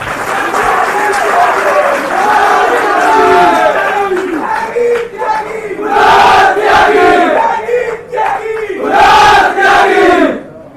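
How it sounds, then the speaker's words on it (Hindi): A large crowd of students cheers and applauds loudly at an evening memorial event honouring martyrs, a sustained roar with shouts rising and falling over about ten seconds. "मैं आप सभी से चाहूंगा अपने लिए एक बार जोरदार तालियां बजाएं"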